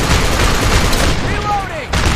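Gunfire in the video game Operation Flashpoint: Dragon Rising, loud bursts of rapid shots filling the clip from close by, with a brief whining tone near the end.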